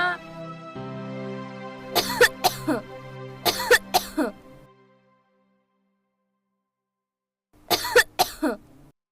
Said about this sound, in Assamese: তুমি কাহি আছা যে